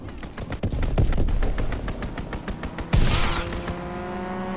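Rapid automatic gunfire rattles through an enemy strafing run in a first-person shooter video game, dense bursts followed by a heavy impact and lingering rumble.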